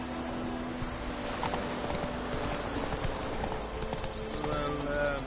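Horse hooves clip-clop in a steady rhythmic gallop during a ride in The Witcher 3, with a faint whinny, while voices talk over them.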